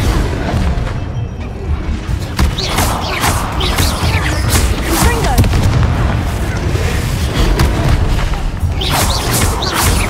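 Spell blasts from Confringo and Bombarda burst repeatedly in Hogwarts Legacy combat, a dense run of loud booms and crackling impacts over a continuous roar, with voices calling out through the action.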